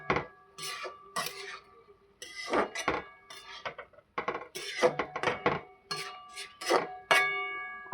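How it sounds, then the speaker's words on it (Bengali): Pumpkin greens are stirred in a pan, heard as irregular metallic clinks and scrapes of a spatula against the pan in short bursts separated by quiet pauses, fairly faint and close. "এটাকে এবার ভালোভাবে নেড়ে চেড়ে নেব।"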